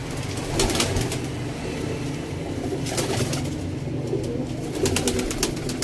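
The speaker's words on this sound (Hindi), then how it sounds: "सियालकोटी लाल मोतियां वाले कबूतर वड्डा नारे" Sialkoti red-pearl-eyed pigeons coo in a loft, a steady layered cooing with bursts of fluttering and shuffling, moderately loud throughout.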